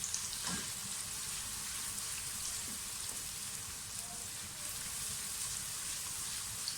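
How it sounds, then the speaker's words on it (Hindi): A steady, crackling sizzle of onions frying in a pan toward golden brown, with faint stirring knocks now and then. "अच्छी तरह से इसको फ्राई कर लें, गोल्डन ब्राउन कलर हो जाए प्याज का"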